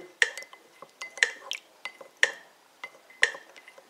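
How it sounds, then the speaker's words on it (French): A large metal spoon stirs a solution in a container, tapping and clinking against the sides four times in a steady rhythm like a metronome beat, with faint swirling liquid between strikes, close and fairly quiet. "Ça va moins bien avec une grosse cuillère qu'un agitateur, mais c'est quand même la bonne technique pour agiter."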